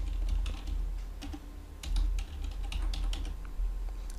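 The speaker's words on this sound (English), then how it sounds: "You can type your password here." Rapid typing of a password on a computer keyboard while setting up a MikroTik BaseBox access point, with close, steady clicking keystrokes and no voices over it.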